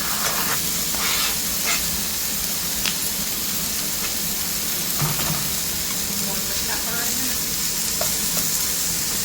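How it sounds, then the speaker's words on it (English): Onion sizzles loudly in a hot pan, a dense constant frying hiss with scattered pops and stirring scrapes, close up and without talk. "I'm gonna go ahead and drop in my onion."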